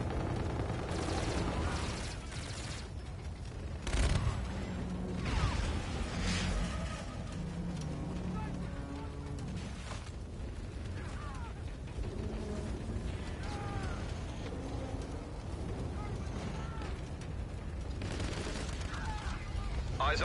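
Sustained video game combat, with rattling gunfire bursts and occasional heavy explosions continuing over about twenty seconds, mixed with radio-style voices calling out.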